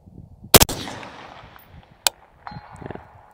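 A single loud rifle shot from an LMT L129A2, followed about a second and a half later by a faint sharp ring of the bullet striking a steel plate roughly 500 yards away, then quiet outdoor ambience.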